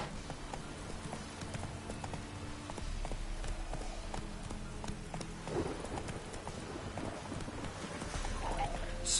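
Roach the horse gallops in The Witcher 3, a steady run of hoofbeats under a wash of rain and distant rumbling; the hooves carry on throughout, with no talk.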